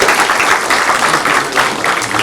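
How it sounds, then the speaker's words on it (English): Steady applause from an audience at a school board of education meeting, honoring students; dense, continuous clapping fills the room at a fairly loud level throughout, with no voices standing out. "One more round of applause for the students."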